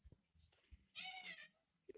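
A house cat gives one short meow, faint and somewhat distant, amid low background noise and soft thumps.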